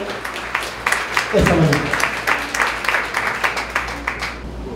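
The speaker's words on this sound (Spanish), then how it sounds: "Fuerte, fuerte, fuerte el aplauso" Audience applause at a tourism congress, a loud spell of clapping that swells under a presenter's voice and fades into scattered claps as he speaks again.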